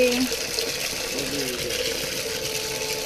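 Water pours steadily onto garden plants dried out by the sun, a continuous close splashing gush with someone speaking faintly over it.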